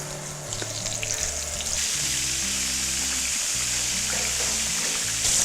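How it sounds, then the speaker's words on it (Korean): Ingredients such as mushrooms and tofu deep frying in hot oil during a military cooking class, a steady broadband hiss and sizzle running throughout over a low hum and tonal background. "다음 식재료를 넣을 때 기름을 온도를 더 올려서 튀기도록 하겠습니다."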